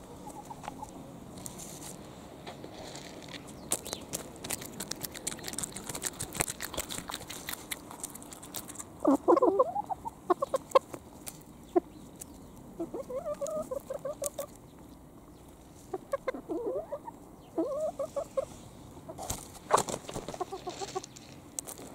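Domestic chickens peck and scratch while feeding, giving a steady patter of quick taps with soft clucks and murmuring calls scattered through, close and fairly quiet.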